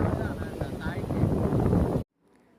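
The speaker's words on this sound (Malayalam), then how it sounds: "നല്ല തണുത്ത കാറ്റുണ്ടായിരുന്നു ഗീസ്." Cold wind at a beach in the evening buffets the microphone in a continuous, loud rumbling gust for about two seconds before cutting out abruptly.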